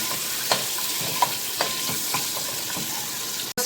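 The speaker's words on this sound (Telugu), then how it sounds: "అందులోనే ఎగ్స్ ఫ్రై చేసేస్తుంది" Eggs fry in oil with salt and turmeric for an egg curry, sizzling loudly and steadily while a spatula scrapes the pan in regular strokes, then a sudden cut near the end.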